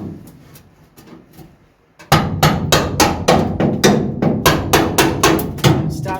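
A hammer drives a chisel against the rusty steel boot floor of a 1974 MK3 classic Mini. After a quiet start, a dozen or more loud, sharp metallic blows ring out close by in a fairly steady rhythm.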